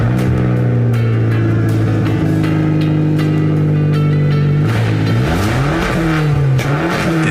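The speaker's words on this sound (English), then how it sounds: "And those car sounds were from Scott." A car engine hums steadily, then revs up and down several times, loud and close.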